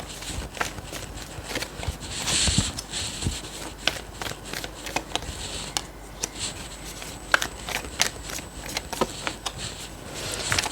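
Tarot cards are shuffled and drawn by hand, a close run of crisp riffling and sliding card sounds in irregular bursts, with no talking.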